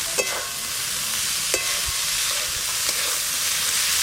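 Boiled banana flower is stirred into a hot frying pan, giving a dense, even sizzle and hiss with a few brief scrapes of the spatula, no talking.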